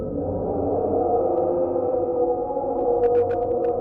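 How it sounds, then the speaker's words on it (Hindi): The Upsweep, a long, strange underwater hum from the Pacific Ocean: a steady, droning low tone with banded overtones throughout, and a few faint chirps near the end. "1990 से लेकर आज तक पैसिफिक ओशन से आती एक अजीब लंबी हमिंग जैसी साउंड।"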